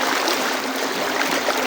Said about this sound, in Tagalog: Dito sa gitna ng ilog.